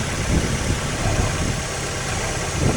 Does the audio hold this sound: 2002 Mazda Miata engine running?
yes